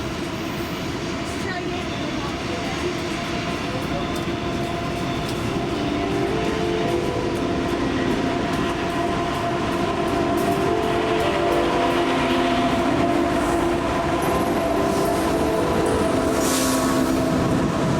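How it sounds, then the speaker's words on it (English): A BNSF westbound freight train led by a B40-8W rebuild locomotive rolls past close by in Kansas City, a loud sustained rumble with rhythmic wheel clatter and a faint horn tone near the end. "there was a westbound BNSF train lined as the KCT went by"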